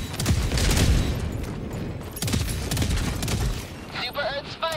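Dense, continuous gunfire and booming in the video game Helldivers 2, loud and sustained throughout with overlapping bursts, ending with a faint voice-like sound near the close.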